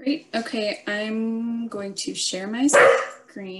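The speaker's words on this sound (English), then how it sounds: "Excuse my dog." A dog barks briefly in the background of an online information session while a person keeps talking, the bark rising as a short, loud burst over the speech near the end.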